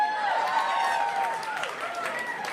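A small stand-up comedy club crowd gives scattered, thin applause, with a few voices calling out over the light clapping at a moderate distance.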